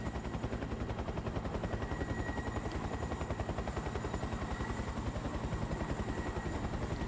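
An AH-1G attack helicopter flies in the War Thunder video game, its rotor thumping in a fast, steady, even beat under continuous engine drone, with no pauses.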